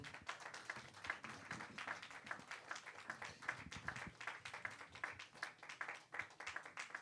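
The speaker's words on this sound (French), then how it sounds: "On nous continue à applaudir le Seigneur." A church congregation claps along during a Sunday worship service, with steady rhythmic applause throughout at moderate distance.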